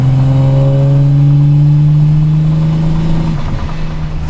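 A VW Golf 2 with a 1483 hp engine revs hard, a loud, close, rising engine roar held for several seconds before it drops off near the end, with no voices.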